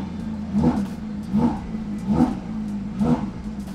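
A sports car with exhaust mode on, capable of revving to 9,000 RPM, gives four short, evenly spaced throttle blips, each a loud close rise and fall over a steady idle.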